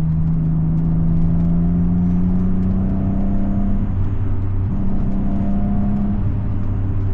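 A powerful V12 engine in a BMW 850CSi roars steadily under hard acceleration, the pitch holding then dropping briefly at a gear change before climbing again.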